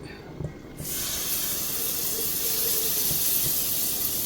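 Ground mango paste hits hot ghee in a pan and erupts into a loud, steady sizzle that continues without break after a few quiet taps at the start.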